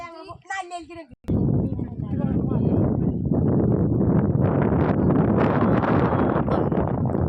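Strong wind blows across a rocky hilltop, buffeting the microphone in a loud, continuous gusty roar that begins right after a brief moment of talk.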